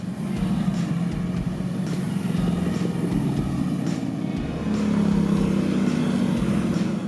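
Ducati Multistrada motorcycle riding through curving roads in rural Thailand: a steady engine drone with wind rush that holds throughout and rises slightly in pitch and loudness partway as the bike accelerates.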